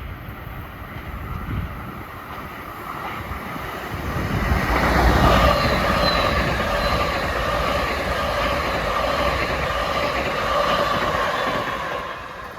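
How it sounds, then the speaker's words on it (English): Long Island Rail Road M3 electric multiple-unit train passing westbound, a sustained loud rolling roar with wind buffeting that builds, peaks around the middle and holds steady with faint whining tones. "Here's an M3 set going west."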